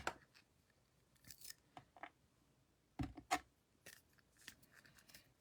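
Several quiet, crisp snips of scissors cutting paper, coming in short bursts with pauses between them, close by.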